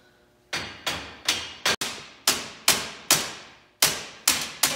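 Hammer strikes on Ford Model T rear axle parts ring out as about eleven sharp metallic blows in an irregular rhythm, loud and close in a garage, with no talking.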